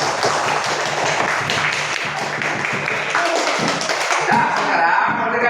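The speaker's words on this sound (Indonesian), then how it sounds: "Tepuk tangan untuk kita semuanya." A classroom of students claps together, brisk close hand claps in a lively burst that thins toward the end.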